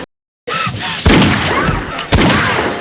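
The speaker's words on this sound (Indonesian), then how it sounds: "Paris melarikan diri di bawah rentetan tembakan Roach" Rapid gunfire from a detective film action scene, with a silent start followed by loud, dense bursts of shots and booming impacts, two strong surges about a second apart.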